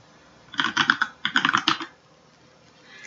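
Quick bursts of typing on a computer keyboard, two clusters of crisp close keystrokes separated by a brief pause, then quiet.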